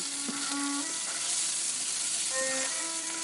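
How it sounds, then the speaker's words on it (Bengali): Whole garam masala spices, with dried chilli, cumin, bay leaf, cinnamon and cardamom, sputter and sizzle in hot oil in a wok; a steady close hiss with a few brief crackles and pops, no voices. "ওই তেলের মধ্যেই দিয়ে দেবো একটু গরম মশলা ফোড়ন"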